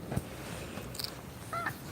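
Cats at a rescue shelter give a few faint, short meows and little chirps against quiet room background, with no talking.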